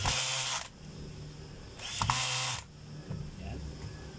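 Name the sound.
tightening the brass brush holder screws on a Makita 4131 circular saw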